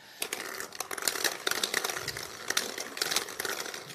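Plastic draw balls for the UEFA Champions League play-off draw clatter and rattle continuously against one another in a bowl, a busy clicking churn lasting several seconds with no talking.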